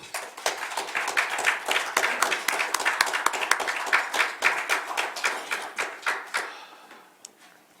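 Audience applause at a Cheongju forum lecture event, a brisk wash of many hands clapping that swells, then thins into scattered claps and fades out.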